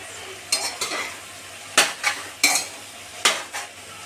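A spoon stirs a pav bhaji mixture with salt in a cooking pan, giving about seven sharp scraping, clacking strokes in uneven pairs. The sound is close and clear with no talking.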